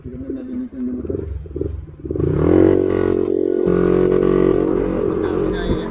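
A motorcycle idles with rough clatter, then its engine revs up and holds a loud, steady droning hum while riding on a short group ride, close to the listener.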